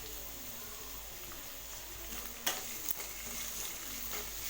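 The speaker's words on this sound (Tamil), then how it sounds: "கேப்சிகமாக ஒரு 4-5 நிமிஷம் மீடியம் ஃப்ளேமில் வச்சு வதக்கி விடுங்க." Capsicum sautés in oil in a pan over a medium flame: a faint, steady sizzle with a couple of quick clicks from stirring.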